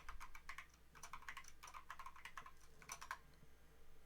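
Quiet, close typing on a computer keyboard while entering a password during a Raspberry Pi setup, a quick uneven run of light key clicks in short bursts over a low electrical hum.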